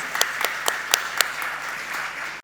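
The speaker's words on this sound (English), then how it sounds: "can we applaud that, please?" Applause at a press conference, a light scattering of clapping with distinct sharp individual claps standing out over a softer steady patter, fairly close and short-lived.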